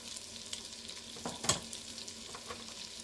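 Beef stew meat sears in a pot with a quiet, steady sizzle, broken by a few soft stirring knocks and one sharper clatter midway. No one speaks.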